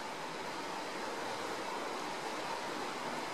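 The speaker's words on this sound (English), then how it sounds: "Can you hear the rain? It's raining right now." Heavy rain falling during a storm in Thailand, a dense, steady broadband hiss of downpour that stays constant and enveloping from start to finish, with no voices.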